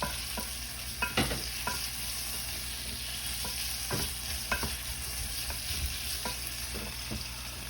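Scallion whites frying in a pan for sweet and sour chicken, a constant moderate sizzle with scattered sharp taps and scrapes of a utensil against the pan, no voices.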